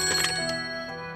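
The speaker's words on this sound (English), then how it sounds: "Care to explain why Despair isn't picking up her cell phone this morning" A cartoon cell phone ringing, a bright electronic ringtone with sustained harmonic tones, loud and alone, fading slightly at the end.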